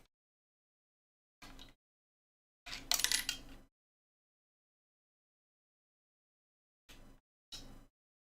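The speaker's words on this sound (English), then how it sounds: "Just dropped my vape on my keyboard." A vape falls onto a computer keyboard, giving a few short, sharp clattering knocks: one, a louder rattling bounce, then two more brief taps after a long silence.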